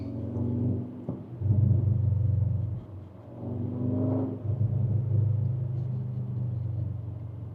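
A 2024 Audi S3 engine hums and rises in a low, rumbling rev from inside the car, with two swells of throttle separated by a brief dip, steady and moderately loud with no talk.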